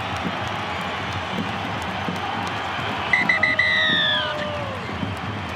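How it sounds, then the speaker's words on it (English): A sellout stadium crowd at Belmore roars at full time of an NRL match between the Bulldogs and Raiders, a broad sustained cheer with a shrill whistle or horn rising through the middle. "Full time at Belmore. Listen to the crowd."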